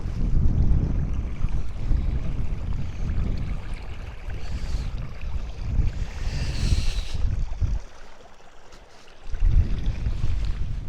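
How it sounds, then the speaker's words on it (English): A small stream on a boggy, pathless Scottish hillside on Beinn Mhor, South Uist, gives a steady broadband wash of flowing water mixed with gusting wind buffeting the microphone, continuous and close, with a brief lull near the end. "And then we got a little stream."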